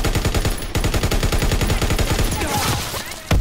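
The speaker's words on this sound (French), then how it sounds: "cette arme, comme vous avez pu voir, c'est une sorte de pistolet mitrailleur" Rapid submachine gun bursts from a WWII-era shooter game, a dense run of evenly spaced shots close and loud, stopping abruptly near the end.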